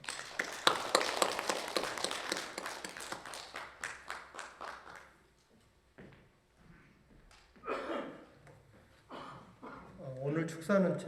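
Audience applause at a Korean national commemorative ceremony: a dense burst of clapping from a crowd fades out over several seconds, then speech follows.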